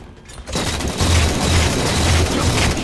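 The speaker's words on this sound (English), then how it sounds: "I got a nade on him. He's dead." Loud, close grenade blast in a first-person shooter game, a sudden heavy boom after a quiet moment that rolls into dense rumbling noise for a couple of seconds.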